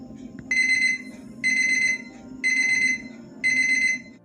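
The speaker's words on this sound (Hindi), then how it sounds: "अलार्म ने भी उठने का संकेत दे दिया है" An alarm clock goes off at 2 AM, giving four evenly spaced bright electronic beep bursts, each about half a second long, loud and close over a faint background hum.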